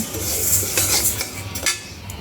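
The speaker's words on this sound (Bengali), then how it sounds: "আমি খিচুড়ি রান্না করার জন্য মুগ ডাল ভাজা নিতেছি" Moong dal roasting in a pan for khichuri, with a spoon scraping and clinking against the metal in quick, irregular strokes and a faint dry rustle of lentils, close and alone.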